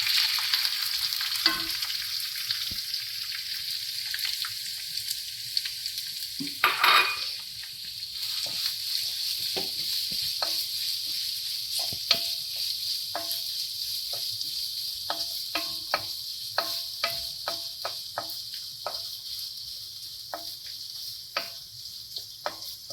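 Ginger and curry leaves fry in hot oil in a pan for Kerala inji curry, a soft continuous sizzle dotted with scattered small pops and crackles, close and moderately quiet, with one louder burst of spattering early on.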